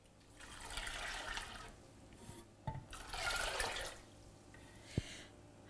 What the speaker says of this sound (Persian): مقدار گندم حلیم حدود 4 کاپ من آب بهش اضافه میکنم